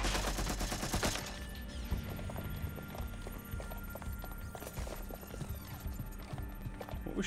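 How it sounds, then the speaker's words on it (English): Gunfire in the video game Watch Dogs: Legion, a dense rattle of shots and sharp impacts that opens loud and then continues steadily at a lower level through the rest of the scene. "What was shooting at you?"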